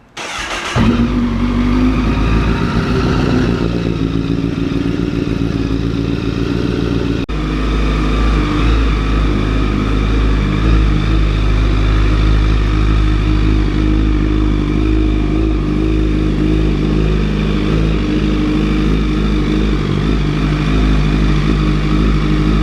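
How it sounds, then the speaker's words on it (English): A 2008 Honda CBR1000RR sport motorcycle engine idles steadily after an oil change, a loud continuous close-up rumble with a brief startup burst at the beginning and no talking. "you would want to turn the bike on for about 10-15 minutes just to let all the oil run through the engine"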